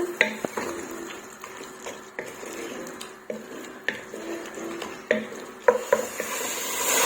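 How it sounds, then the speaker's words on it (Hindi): Spices roast in a pan for an aubergine and mutton dish, with a spoon scraping and tapping against the metal in uneven clicks over a low, soft sizzle. "हल्का सा मसालों को भूनूंगी और इसके बाद इसमें डालूंगी बैंगन"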